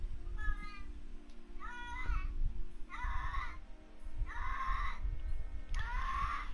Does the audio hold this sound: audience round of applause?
no